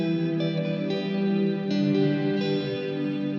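Sustained electric guitar chords ring out through a Walrus Audio Slötvå reverb pedal, heavy reverb and effects, with an added octave layer and a few fresh strums swelling the wash.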